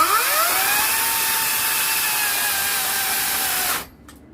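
Ryobi 18-inch 40V brushless cordless electric chainsaw cutting already split firewood: a loud, steady high whine with the pitch climbing as it bites in, holding under load, then cutting off abruptly near the end.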